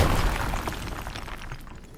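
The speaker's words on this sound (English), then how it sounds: "Rock explosion." A rock explosion in the video game RuneScape: Dragonwilds gives a dense, crumbling burst of noise that fades slowly across two seconds, with no talking over it.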